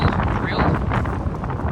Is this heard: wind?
yes